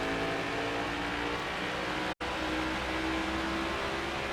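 Race car engine at New Hampshire being brought back onto the throttle, a loud, steady, close roar that drops out for an instant before returning.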